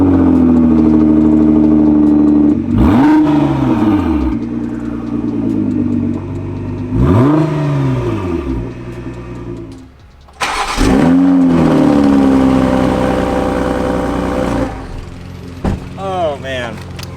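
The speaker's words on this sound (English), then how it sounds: "we'll just do a slow acceleration up this road to see which one is quieter" A Toyota Supra sports car with its exhaust in loud mode accelerates slowly up a neighborhood road, the engine note rising in repeated sweeping surges through gear changes, loud and close, with a brief lull midway.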